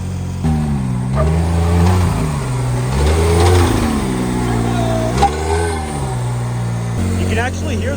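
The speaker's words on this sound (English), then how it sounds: "You can actually hear the turbo just as much as your other car without the cat." A Can-Am Maverick R side-by-side's turbo engine revs repeatedly, its pitch climbing and falling in surges, with a rough, throaty tone close by.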